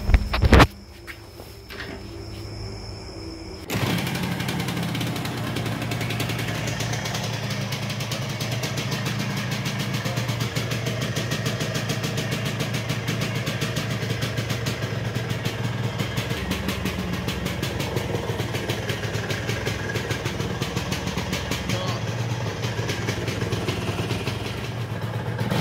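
A Yamaha RXZ two-stroke motorcycle with troublesome wiring cranks and catches after a brief clatter, then settles into a steady, close, loud idle that drones on without talk.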